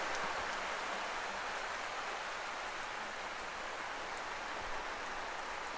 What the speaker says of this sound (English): we're back to the rainy weather again